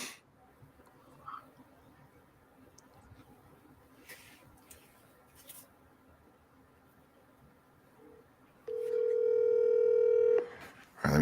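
A telephone dial tone rings out clearly for about two seconds near the end, following a quiet stretch of faint room noise, as a call is placed to a friend during a live morning show broadcast.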